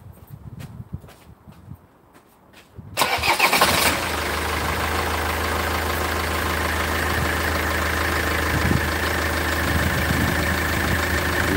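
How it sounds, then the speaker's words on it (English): A car engine being checked for a P0405 EGR fault: a few quiet clicks, then the engine cranks and catches, settling into a steady, moderately loud idle that hums on for the remaining eight seconds. "Start the engine."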